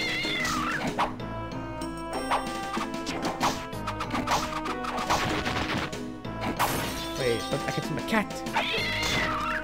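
Cat meows sound from a DS Castlevania game amid loud game music and effects, several wavering cries near the start, middle and end.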